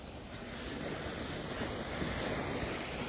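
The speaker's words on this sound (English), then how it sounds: "watching the waves come in" Ocean surf rolls in steadily at Waikiki Beach in Hawaii, a continuous broad wash of breaking waves with light wind noise, no voices.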